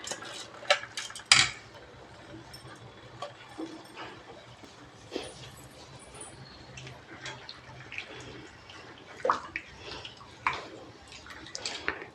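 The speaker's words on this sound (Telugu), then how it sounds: "మనం ఏవైతే కడిగి పక్కన పెట్టుకున్న రైస్ ఉన్నాయో అవి కొంచెం ఇందులో యాడ్ చేసేసుకుందాం" Washed rice tipped into a pot together with its water for soya keema biryani: scattered clinks of metal, drips and splashes, fairly faint and irregular throughout.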